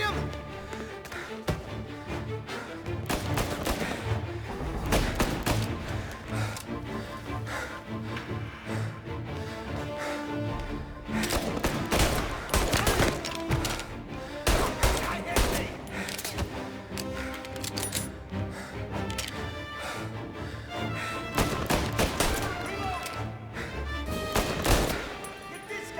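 Rapid bursts of Tommy gun fire in Mafia Definitive Edition, loud repeated volleys dense with game music and action sounds, running steadily across the whole stretch.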